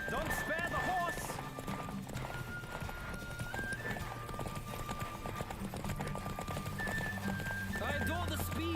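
Galloping hooves and a horse's whinny from The Witcher 3, rapid clip-clop rhythm running steadily throughout with game music and a talking voice over it.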